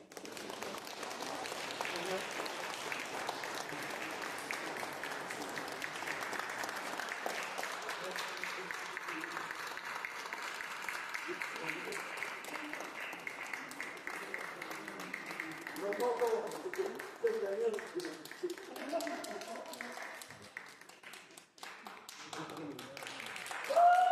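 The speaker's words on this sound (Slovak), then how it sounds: "Ešte jeden potlesk." Sustained audience applause after a church worship song, a broad steady wash of clapping hands that fades into scattered claps and low murmuring voices near the end.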